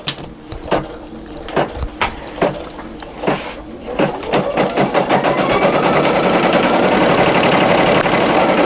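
A single needle embroidery machine stitches the placement line of an appliqué heart patch. A few scattered clicks and knocks come first, then a rapid, continuous stitching rattle builds and holds steady.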